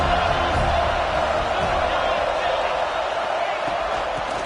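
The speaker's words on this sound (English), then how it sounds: "This crowd trying to make life miserable for this offense." Steady roar of a college football stadium crowd, loud and continuous throughout, with a broadcast announcer talking over it.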